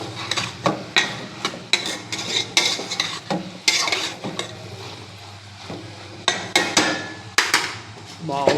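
Ridge gourd and meal maker curry is stirred in a pot with a spoon, giving rhythmic clinks and knocks against the pot over a low simmering hiss.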